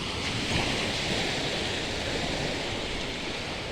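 Waves wash steadily onto a seaside beach, a continuous broadband roar of surf with wind noise over the microphone, loud and unbroken throughout with no voices.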